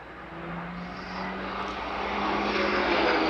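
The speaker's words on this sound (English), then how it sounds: "watch now as the PC-9M regains the display line along the main runway" A Pilatus PC-9M turboprop trainer of the Slovenian Armed Forces flying an air show display at RIAT, its propeller engine drone steady and growing gradually louder as it approaches along the runway, with no talking.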